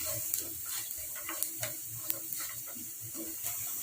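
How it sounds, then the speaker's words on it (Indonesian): Cumin stirred through a frying pan for Balinese shredded chicken rice, a continuous sizzling hiss broken by light, repeated scraping taps of the utensil against the pan, close and steady throughout. "Kemudian kita masukkan jintennya, kita aduk sampai merata."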